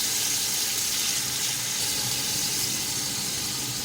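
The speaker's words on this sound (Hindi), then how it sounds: "2-3 टेबल स्पून पानी डालूंगी।" Water pours into a cooking pot in a steady, bright hissing stream for a few seconds, close by with no talking.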